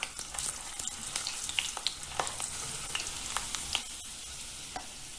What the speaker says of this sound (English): Fry the potatoes till they get a light color on them.